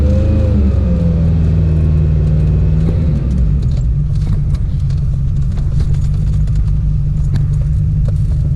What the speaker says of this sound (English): go for a ride in a Ferrari